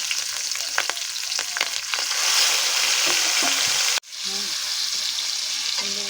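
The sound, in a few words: nigella seeds, green chili and tomato sizzling in hot oil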